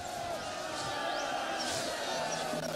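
Soldiers in the Rome II Total War video game cheer and shout as a distant battle crowd, a continuous mass of voices with rising calls, heard without nearby speech.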